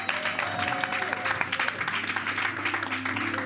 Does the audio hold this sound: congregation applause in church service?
yes